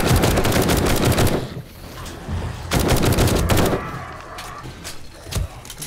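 Gunfire in the video game 7 Days To Die during a horde night, with loud bursts of rapid automatic shots in several volleys separated by brief pauses, close and dominant.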